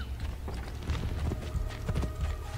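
Horse hooves clip-clop steadily in Assassin's Creed Brotherhood, a brisk rhythmic trot of close, clear hoofbeats over a low game ambience.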